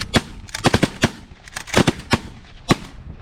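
Shotguns firing at birds from an A-frame blind in the middle of a field: about a dozen loud, sharp blasts in quick irregular clusters, some nearly overlapping, with short gaps between volleys.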